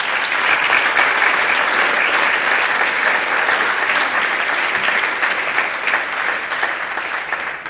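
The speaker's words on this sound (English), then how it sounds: "Let's give them all one more round of applause." Sustained applause from a large crowd at a high school senior awards night, steady and loud throughout, with dense overlapping claps and no pauses.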